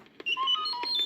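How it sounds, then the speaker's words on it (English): R2-D2, the Star Wars droid, gives a quick warbling run of electronic beeps and chirps as a page-turn signal on a Return of the Jedi read-along record, close and clear with no talk. "when you hear R2-D2 beep like this"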